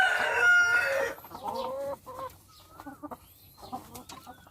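Several laying hens cluck and squawk close by, with a louder burst of calls at the start followed by scattered softer clucks.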